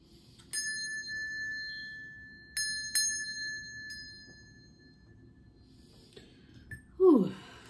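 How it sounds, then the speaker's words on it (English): A small bell rings three times with clear, sustained metallic tones that decay slowly in a quiet room, followed by a faint breathy exhale. "I'm gonna ring the bell."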